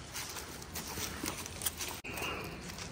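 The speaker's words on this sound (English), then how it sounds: "I brought another donkey." Donkey hooves walking on hard ground make soft, irregular clip-clop steps, close but faint beneath a steady outdoor background hiss.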